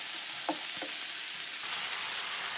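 Oil sizzles steadily in a pan while vegetable and pork chow mein is stir-fried, a dense, even crackling hiss with a couple of faint clinks of stirring near the start, close and alone.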